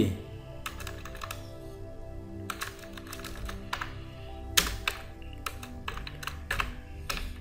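Someone types the name of a lamp on a computer keyboard while setting up a three-phase motor starter in relay simulator software. Short bursts of crisp key clicks come in quick runs separated by pauses, close and fairly loud against a low background hum.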